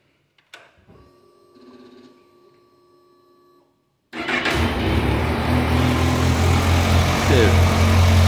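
A motorcycle engine cranks and catches after a few seconds of faint electrical whine and clicks, then settles into a loud, steady, close idle.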